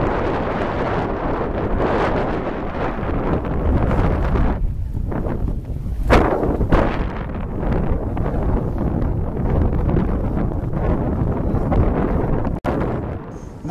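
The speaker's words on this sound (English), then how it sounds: "Now we fall off to run before the wind, loosening the sheets to adjust to this new heading." Strong, steady wind roar buffets a sailboat running before the wind at sea, loud and continuous throughout with brief gusty swells and no talking.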